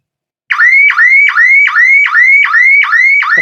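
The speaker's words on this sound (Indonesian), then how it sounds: "alarm berbunyi karena pintu belum ditutup" An emergency exit door alarm blares after the door is opened, a loud electronic whooping tone repeating in rapid, even rising sweeps about three times per second, close and continuous after a brief silence.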